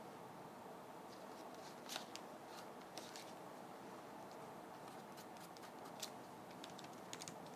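Paper being cut with scissors in a quiet room, giving soft, faint, irregular snips scattered over a low steady background with no talking.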